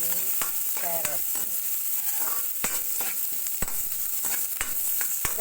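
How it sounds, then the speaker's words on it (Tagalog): Aromatics sauté in a pan for sweet and sour chicken, a steady sizzle of frying with repeated sharp clicks and scrapes of a utensil stirring against the pan, close and continuous. "hantayin lang po natin magisa ng maayos ang mga ricado"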